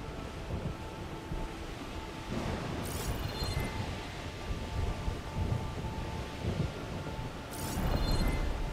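Storm ambience in the video game Horizon Forbidden West, Burning Shore expansion: steady rain and wind wash with two sharp thunder cracks, the second louder and rolling, no speech.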